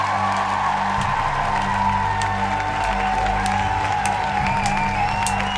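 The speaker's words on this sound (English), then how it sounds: "Let's have a round of applause for Riven, everybody." A canned applause sound effect played during a live stream, steady clapping and light cheering that hold at an even level for several seconds.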